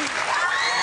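A brief burst of dense, loud applause and crowd noise from an improv comedy studio audience, steady throughout the short moment.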